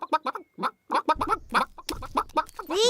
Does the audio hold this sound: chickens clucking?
yes